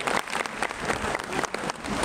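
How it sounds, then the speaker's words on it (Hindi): An audience in a large auditorium hall in Lucknow claps loudly and densely, a steady wash of many hands with no break. "जोरदार ताली बजा करके स्वागत करिए"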